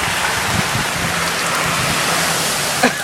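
Heavy rain pours down in Wildwood, a loud, dense and unbroken hiss of water hitting surfaces that fills the whole stretch with a constant roar.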